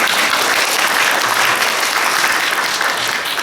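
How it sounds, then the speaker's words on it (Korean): A church congregation applauds during a Sunday worship service, a dense, steady burst of many hands clapping at once that stays loud and even for a few seconds, with no voices rising above it. "네, 박수 한번 보내주세요."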